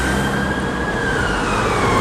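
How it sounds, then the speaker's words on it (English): Ambulance siren wailing in a London street near the Woolwich Foot Tunnel, loud and close over traffic rumble, its tone sliding slowly downward as it passes. "There's an ambulance coming."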